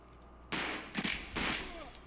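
Shotgun blasts in the video game Escape from Tarkov: two loud, close booming bursts about a second apart, each trailing a short rumble, with faint background ambience between.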